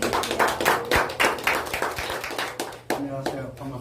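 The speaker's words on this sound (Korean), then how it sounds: "우리 큰 박수 한번 드릴게요" Audience clapping at a Korean book-launch concert for a poetry-recitation textbook: a burst of close, uneven hand claps that thins out toward the end, with voices mixed in.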